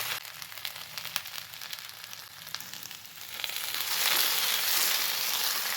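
Sliced okra fries in hot oil in a pan, a crackling sizzle that starts fairly quiet with a few sharp pops and swells into a fuller, louder hiss over several seconds.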